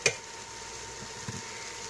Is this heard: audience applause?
no